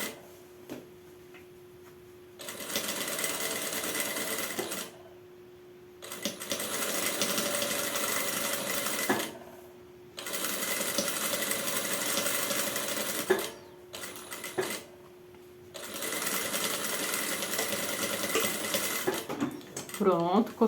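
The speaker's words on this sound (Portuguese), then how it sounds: "Pode colocar um pezinho de zíper na sua máquina para você conseguir costurar mais pertinho dos dentes do" Sewing machine fitted with a zipper foot stitching a zipper on a jumpsuit, running in four long bursts of steady rapid whirring separated by short pauses, with a faint steady hum and light handling clicks in between.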